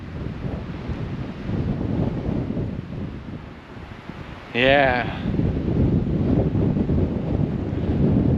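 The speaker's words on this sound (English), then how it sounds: "It's too windy." Strong wind buffets the microphone with a constant low roar outdoors on a homestead, and a short voice cuts in partway through.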